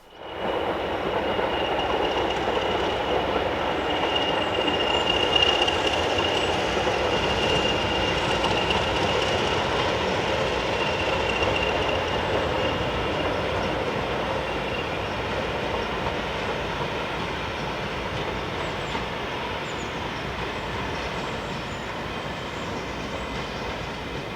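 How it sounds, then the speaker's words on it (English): A diesel train rumbles steadily across a bridge for a long stretch, wheels clattering and faintly squealing, loud and continuous without voices. "So hopefully we're going to be able to see a train going across this bridge"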